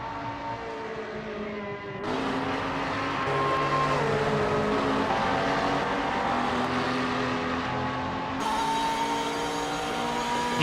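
A Corvette GT race car in a racing video game, its engine droning steadily at high revs with gear shifts and rising pitch, loud and continuous, alongside other cars nearby.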